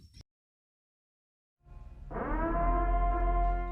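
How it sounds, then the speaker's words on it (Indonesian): A low, steady siren wail from the film The Purge swells in after a short blip and near silence, holding loud and sustained with a rich harmonic drone. "Sirene pun berbunyi tanda penyucian tahunan telah dimulai."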